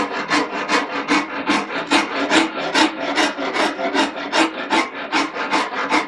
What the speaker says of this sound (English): make a whole pass and then just tilt the rasp just a little more